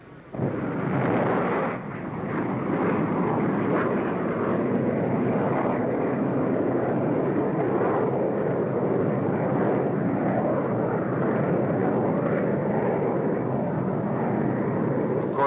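A rocket launch from a 1963 teaching film, a loud, continuous roaring rumble that bursts in at the start and holds steady for about fifteen seconds with no voices.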